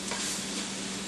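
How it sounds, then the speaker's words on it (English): Bread frying in a pan over medium heat gives off a steady, close sizzle with a soft crackling hiss that runs continuously, with no voices. "So you can hear that really nice sizzle. It means it's cooking really well."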